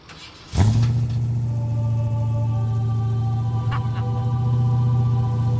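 A Ford Mustang muscle car engine cranks and fires with a sudden loud burst, then settles into a deep, steady, close idle with a brief blip of revving partway through.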